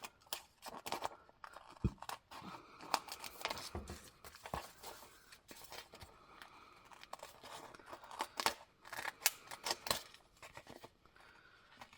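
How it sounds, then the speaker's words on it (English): Scissors snip through paper while trimming the edges of a homemade planner built from dollar-store supplies, sharp crisp cuts and crinkles repeating irregularly up close, with no talking. "Now I'm just going to turn that corner and cut all the way back up to where that tear"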